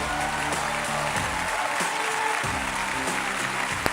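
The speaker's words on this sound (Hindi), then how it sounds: "उनके लिए भी जोरदार ताली।" Audience at a televised Indian show breaks into applause, a dense, steady clatter of many hands lasting throughout, loud and continuous with a few sharper claps and a faint voice beneath.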